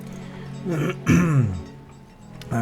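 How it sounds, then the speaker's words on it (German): A person clears their throat and coughs twice in quick succession, close and fairly loud, with no speech around it. "Muss ich schnell husten."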